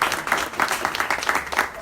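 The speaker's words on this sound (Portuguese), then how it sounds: "Palmas aí para Marinês." An audience claps for a guest at the close of a talk-show interview, a short burst of scattered, moderately loud applause with a few brighter claps standing out.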